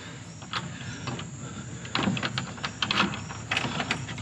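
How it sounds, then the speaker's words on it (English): Several front door locks being unlocked, a run of scattered metallic clicks and clunks that grow denser and louder toward the end, heard close against a steady hiss of background noise. "you hear all the locks?"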